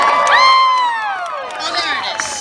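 Renaissance fair audience cheering and shouting for a fire-performance troupe, loud overlapping whoops and high voices, children among them, swelling at first then easing off, with light clapping mixed in.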